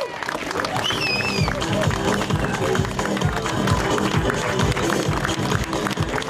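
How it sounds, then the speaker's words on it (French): Loud, sustained clapping from the crowd at the Roc d'Azur 2011 mountain bike podium, a steady wash of applause with an announcer's voice and some whistles mixed in. "Les applaudissements très forts."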